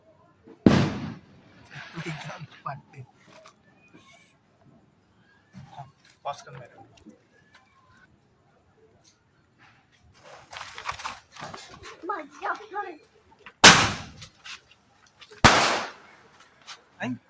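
Firecrackers are set off by hand during Diwali and Bhai Dooj celebrations, three loud, sharp bangs going off near and spaced apart, with people talking and calling out between the blasts.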